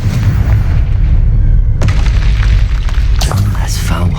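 A Confringo fire spell blasts in the Hogwarts Legacy video game as a loud, deep boom with rumbling low-end impact, followed by a second burst and crackling debris near the end, amid continuous game background sound.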